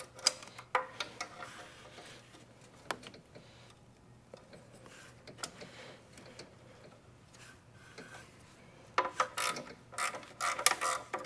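A ratcheting wrench works free the five rusted bolts holding an engine heat shield on a Chrysler Town & Country / Dodge Grand Caravan, giving scattered metallic clicks and sharp knocks, quiet at first and busier near the end.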